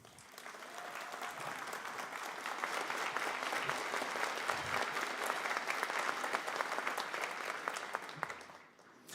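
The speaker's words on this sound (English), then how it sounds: "join me in a round of applause for them." Sustained applause from a community college commencement audience for Career and Technical Education graduates, building over the first few seconds into a steady dense clapping that fades near the end, with faint crowd murmur underneath.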